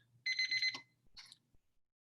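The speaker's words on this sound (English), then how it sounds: "I have my timer, it's about to go off, which means that my time is almost up. There it goes." A timer alarm goes off with a short burst of bright electronic beeping, then a second briefer burst, clear and close with no one talking.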